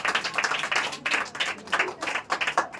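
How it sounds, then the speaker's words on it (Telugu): Congregation at a Sunday worship service clapping steadily during gift giving, loud and close with a rhythmic pulsing of many hands in unison. "అందరు గిఫ్ట్ అయిపోయేంత వరకు కూడా అందరు చప్పట్లు కొట్టడం ఆపకూడదు అనమాట."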